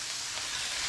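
Japanese A5 Wagyu steak sizzles in a hot pan while rendering out fat, a dense, steady crackling hiss close up for about a second with no voices.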